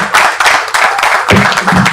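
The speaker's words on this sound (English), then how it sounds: "Let us continue with the organic round of applause." Audience applause at a Blue Economy TV launch event in Nigeria, steady mixed clapping from a crowd that swells again near the end, loud and sustained with no talk over it.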